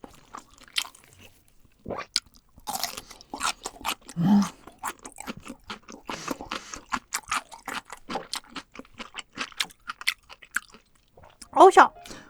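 Close, crunchy chewing and biting of a battered king tiger shrimp corn dog, with irregular crisp crunches, wet mouth sounds and a couple of louder bites, plus brief vocal murmurs.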